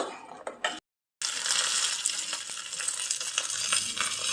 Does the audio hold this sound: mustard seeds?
yes